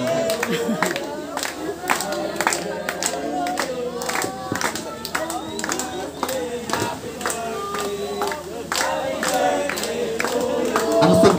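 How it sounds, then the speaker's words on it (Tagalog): Guests at an 18th birthday debut clap steadily together while singing happy birthday, a crowd of voices with continuous rhythmic hand claps throughout, close and lively. "kakanta muna ng isang happy birthday habang pumapalakpak"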